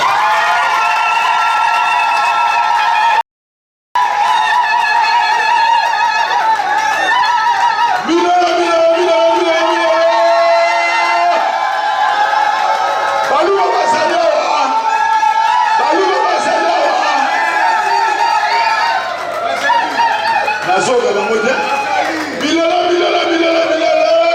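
Wedding guests cheer and acclaim loudly together in a continuous crowd roar with whoops and shouts, sustained throughout after a brief dropout near the start.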